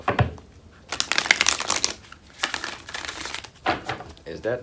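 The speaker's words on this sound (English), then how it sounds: "One more shuffle." Tarot cards are shuffled in a few quick riffling bursts with short pauses between, close and fairly quiet, under intermittent speech.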